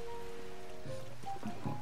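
Steady rain falls in Zelda: Tears of the Kingdom, a continuous soft patter with faint game music tones running underneath.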